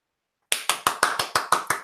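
A single person clapping seven times in a quick, even rhythm after a short silence, each clap close, crisp and sharp.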